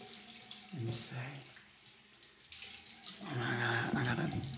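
Water runs from a bathroom tap into a sink in two surges, a close, steady splashing rush that fades briefly between them and then returns stronger.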